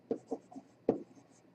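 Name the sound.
erasing writing on a board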